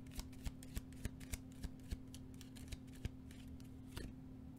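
Tarot cards are shuffled in a quiet room, a series of about a dozen soft, evenly spaced riffle snaps and flicks close to the microphone, without any talking.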